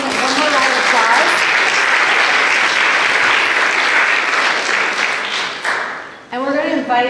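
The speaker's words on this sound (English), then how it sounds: "We're actually going to give one more round of applause" A conference crowd gives a loud, sustained round of applause for a panel of speakers. The clapping swells and holds, then fades out, and a voice starts talking near the end.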